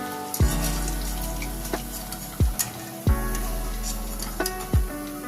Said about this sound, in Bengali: এগুলো আমি উল্টে পাল্টে ভালো করে লাল লাল করে ভেজে নিয়েছি